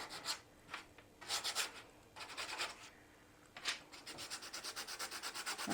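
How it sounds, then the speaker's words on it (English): Heavy-grit sandpaper rubs lightly up and down over a painted wood piece being distressed before waxing, making close, rhythmic scratchy strokes in uneven bursts that speed into a quick steady run at the end, with no talking. "I'm going to kind of lightly sand this with sandpaper, go up and down like that"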